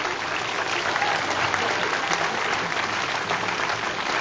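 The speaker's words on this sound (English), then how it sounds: "So can we give a round of applause to some of the workers?" Outdoor audience applause at the dedication of the W.E.B. Du Bois Monument in Great Barrington, Massachusetts, loud, dense continuous clapping from a gathered crowd, close and steady throughout.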